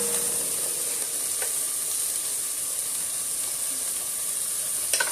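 Peppers and onions sizzle in a pot for a hearty three-bean chili, giving off a steady, bright hiss of frying close by, with a few faint clicks near the end.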